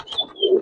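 A Giribaz pigeon at a pigeon farm gives a short, soft coo, a brief low throaty call lasting under a second, close by and alone.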